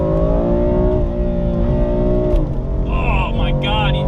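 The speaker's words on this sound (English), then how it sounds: "Oh my God, that mid-corner shift is just so brutal." A BMW M4 with a Dinan S2 upgrade drones loudly under load, then its pitch drops abruptly in a harsh mid-corner gear shift before high whining tones rise over the engine.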